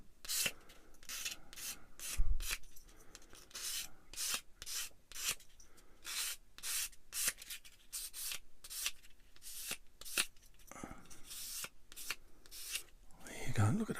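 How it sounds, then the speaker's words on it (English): Light sanding of a small plastic model kit head part for a cat figure, a close series of short rhythmic rubbing strokes with brief pauses, soft and scratchy, with no talk over it. "A little bit of a light sand."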